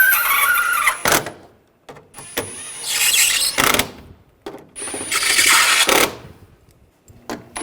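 Screws being tightened into a headlight assembly on a 2013-2016 Dodge Dart, giving several bursts of ratcheting, clicking mechanical noise separated by short pauses, close up and with no talking.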